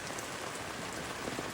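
Steady rain pours down on a rainy Sunday, a dense continuous hiss of drops hitting outdoor surfaces near the microphone, with no voices over it.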